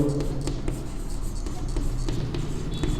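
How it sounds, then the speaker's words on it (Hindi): Marker or chalk writing on a board during a Class 10 coordinate geometry maths lesson, with steady scratchy strokes and small taps, close and moderately loud, with no talking. "तो यहाँ पे मैं लिखता हूँ"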